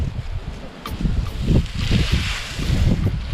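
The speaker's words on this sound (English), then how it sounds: "It's really windy out today, so I hope you can hear me without too much trouble." Strong wind buffets the microphone outdoors on a farm with a loud, uneven low rumble that keeps rising and falling, and a faint hiss and rustle sit over it.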